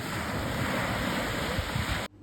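Wind and waves on the open sea roar as a steady, loud, dense rush with no pauses, then cut off abruptly just before the end.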